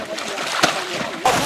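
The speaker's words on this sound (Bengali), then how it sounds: "নৌকা ডুবে গেছে আমরা এখন নৌকাতে পানি বের করবো" Water is bailed out of a swamped small boat on the water at Debotakhum in Bandarban, with a couple of close splashes over a steady watery wash and some background chatter.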